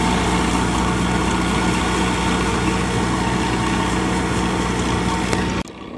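Red-painted engine running an Iseki TS3910TC tractor tilling a flooded field, a loud steady droning hum that drops off abruptly at the very end, no talk.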